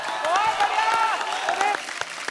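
An audience at a televised music show claps in a steady burst, moderately loud, while a singer's voice carries through over the clapping and crowd noise.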